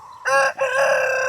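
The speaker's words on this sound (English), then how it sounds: "Listen to these roosters try to get their crow right" A rooster on a family flock of about 150 chickens in Arizona lets out a short, loud, close crow in two quick parts, the second drawn out.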